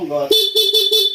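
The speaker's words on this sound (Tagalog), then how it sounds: "Yan, may busina." A horn honks in several short repeated bursts after a brief low hum, loud and close, with a steady pitched tone in each blast.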